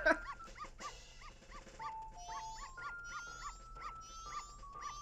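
Several dogs bark, yip and whimper in rapid repeated bursts in the video game The Legend of Zelda: Majora's Mask 3D, close and fairly clear over a steady game background hum, with no talking.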